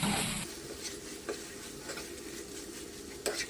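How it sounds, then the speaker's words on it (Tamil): Egg parotta being stirred together with chicken salna on a hot pan, a soft sizzle with occasional light scraping taps of a spatula, close and quiet. "இப்போ நம்ம சேர்த்துக்கிட்ட சிக்கன் சால்னா இதை சேர்த்து மிக்ஸ் பண்ணிவிடுவோம்"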